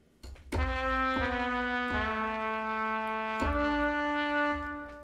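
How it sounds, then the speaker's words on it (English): Chamber Orchestra 2 trumpet plugin plays a short melodic line of four sustained, bright brass notes with smooth transitions, close and fairly loud, ringing out and fading at the end, with no talking. "The next plugin I want to show you is this trumpet, Chamber Orchestra 2"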